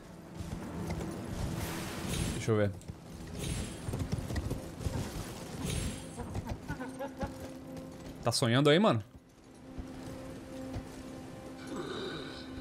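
Horse hooves clip-clop in a steady, fairly close rhythm while riding in the Elden Ring video game, with someone talking over them and brief sweeping game effects cutting through near the end.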